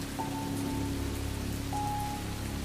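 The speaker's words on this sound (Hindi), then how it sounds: "अब बारिश भी हल्की हो गई है" Light rain falls steadily as an even, close patter on surfaces, with a faint hum in the background and no voices.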